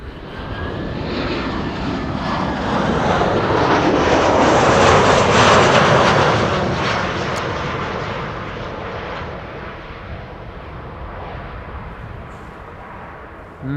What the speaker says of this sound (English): Saudia flight 933, the 747 arriving from Jeddah, going to 18 right, the Polderbaan